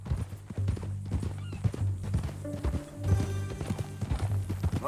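Horse hooves clip-clop at a steady walking rhythm in Red Dead Redemption 2, close and clear over a low rumbling music bed, with a short snort or whinny near the end.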